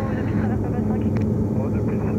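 Steady drone of a DA40 light aircraft engine in flight during circuit practice, continuous and fairly loud throughout, with people talking over it.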